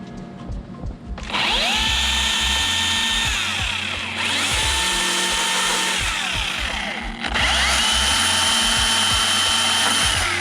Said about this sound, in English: So I'll use a chainsaw here.